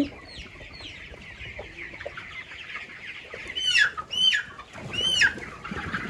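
Farm chickens and chicks clucking and peeping close by, a busy overlapping chatter with several sharp, rising cheeps near the end.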